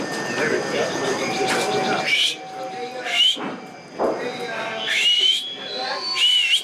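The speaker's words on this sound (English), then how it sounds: "I learned how to whistle" A person whistles short rising tones in several bursts, interleaved with chatter from others in a casual conversation.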